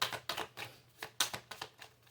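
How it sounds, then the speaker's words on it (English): Tarot cards shuffled by hand from a deck running low, a run of crisp riffling snaps and soft slaps in an uneven rhythm, close and clear with no talking. "When it gets low in the deck like this, it gets harder to shuffle."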